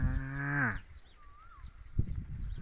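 A single cow lets out a long, loud moo outdoors, followed by quiet field ambience with a faint bird whistle and soft rustling.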